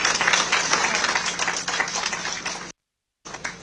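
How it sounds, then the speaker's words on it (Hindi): Crowd applause at a public memorial gathering in Mussoorie, dense sustained clapping from many hands filling the space, then a brief silence before the clapping returns. "सबने एक बार ताली बजा दी।"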